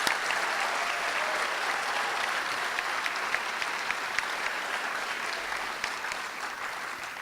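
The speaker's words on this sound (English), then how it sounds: "one more round of applause for our graduates" An audience applauds graduates at a 2018 spring nursing pinning ceremony, with sustained, even clapping from a sizable crowd in a hall and scattered sharper claps standing out from the steady wash.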